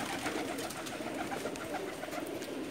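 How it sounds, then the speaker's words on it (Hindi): Pigeons in Jeddah, Saudi Arabia coo softly in soft repeated calls over a faint, steady background hiss, with no voices. "जद्दा सऊदी अरब से दिखा रहा हूँ मैं ये कबूतर आपको।"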